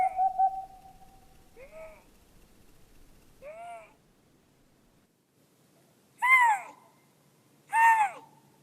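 Lynx courtship calls in a Finnish forest: a few drawn-out, cat-like wailing yowls, a long one at the start, two softer mid-distance calls, then two louder, harsher bursts near the end, echoing in otherwise quiet woods.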